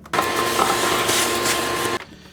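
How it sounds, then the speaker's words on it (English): A vacuum cleaner sucks excess lint from the duct opening of a GE clothes dryer during replacement of the front air duct assembly, a steady loud roar starting abruptly and cutting off after about two seconds, with no talk. "we'll want to vacuum up all this excess lint that's laying in there"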